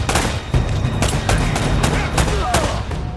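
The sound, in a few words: blind gunfire in the video game Uncharted: Drake's Fortune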